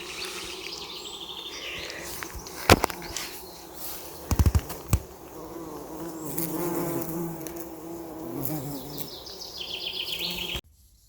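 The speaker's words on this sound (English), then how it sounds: "Can you hear all the bees?" Bees buzz steadily among wheat and barley on a Scottish hillside in June, with a few louder close passes and faint bird chirps, no talking.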